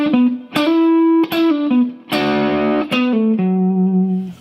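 Electric guitar plays a lick from a song's second solo, distorted with effects, sustained bent notes and a few picked phrases ringing clearly and loudly, no voice over it.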